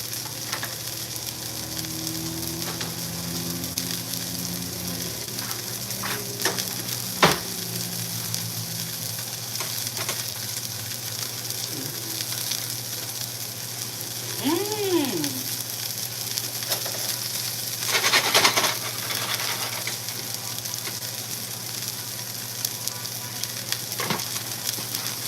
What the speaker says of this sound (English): He said the sizzling is great.